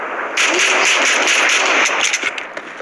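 Pistol fire in a video game: a loud, dense burst of shots lasting about two seconds, with sharp cracks continuing and thinning out toward the end.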